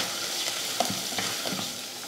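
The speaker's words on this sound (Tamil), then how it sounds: "சேர்த்துட்டு வதக்கி விட்டுடலாம்." Onions and turmeric powder sautéed in a pan for lentil rasam, a steady close sizzle with soft scraping stirs and a few brief clinks, no voices.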